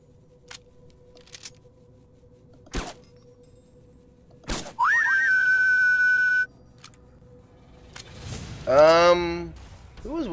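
In the video game Fallout New Vegas, a clear rising whistle holds a steady pitch for about two seconds, followed later by a warbling tone, amid sparse thuds and knocks.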